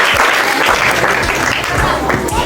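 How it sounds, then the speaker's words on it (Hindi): Children clapping loudly together at a health camp gathering, a dense, close burst of applause with some voices mixed in. "बच्चों जोरदार तालियां, ताली में कोई कंपटीशन नहीं"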